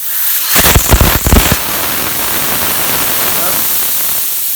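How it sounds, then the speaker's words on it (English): Air rushing out of a deflating motorbike tyre as a steady broadband hiss that continues throughout, with brief bursts of louder noise near the start. "Going to let all the air go out. Yeah, it's going out now."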